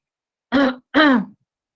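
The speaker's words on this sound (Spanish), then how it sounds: "El paciente, como tiene esas flemas densas, empieza a carraspear para tratar de sacar" Two short, close throat-clearing rasps in a row, separated by a brief pause, in an otherwise silent room.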